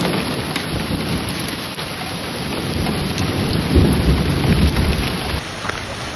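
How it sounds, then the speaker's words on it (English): A violent Alberta summer storm with hail, strong wind and lightning: dense steady roar of rain and hail pelting surfaces, with low thunder rumbling and swelling midway, continuous and loud with no voices. "hail, violent winds, and lightning swept through neighborhoods"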